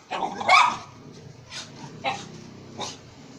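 A small dog barks sharply a few times, close by, with short yipping bursts spaced across a couple of seconds.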